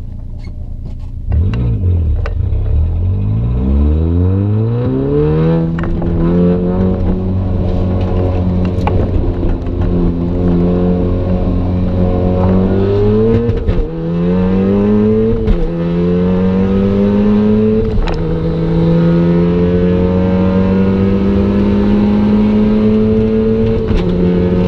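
A Volkswagen MK7 Golf R and a Corvette accelerate hard side by side in a roll race event, engines climbing through several rising gear pulls with brief shift dips, loud and continuous, no talk.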